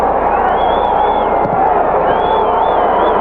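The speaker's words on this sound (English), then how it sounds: "Crowd moments ago oohed and awed and cheered at the score" Stadium crowd at a 1985 USFL football game between the Orlando Renegades and Tampa Bay Bandits, a loud sustained roar of cheering and babble with a few whistles rising above it throughout.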